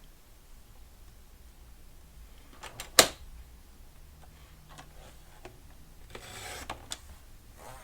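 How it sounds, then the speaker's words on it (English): A paper trimmer slices excess cardstock off a handmade birthday card, with one sharp, close cutting snap standing out amid quiet rubbing and light handling noises of the paper. "I'm just going to bring in my trimmer, and we're going to trim off the excess that we don't need."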